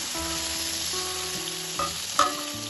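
Steady hissing sizzle of ridge gourd pieces frying in hot oil, with a soft melodic tone in the background.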